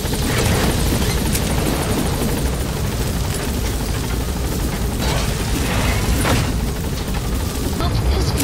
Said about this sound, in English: Please select the support helicopter requested.